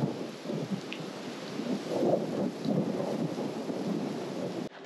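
Steady rain hisses outdoors while gusty wind rumbles low and loud, with no voices.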